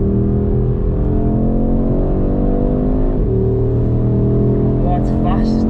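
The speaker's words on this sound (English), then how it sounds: "this is actually the first time I've even been in the new RS3 and it's going to be on track" An Audi RS3 8Y on a race track, heard from inside as the engine hums and rises under acceleration, a steady loud drone with shifting pitch and a gear change midway; voices talk over it.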